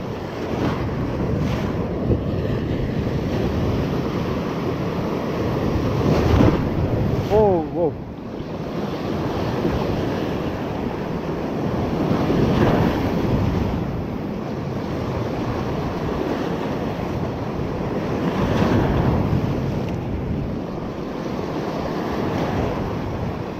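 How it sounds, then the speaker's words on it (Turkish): Big sea waves break along a rocky shore at Gazipaşa, Antalya, during shore fishing for bluefish: a continuous roaring surf with swelling surges, mixed with wind buffeting the microphone, close and fairly loud, with no talking. "Oo, büyük dalgalar geliyor."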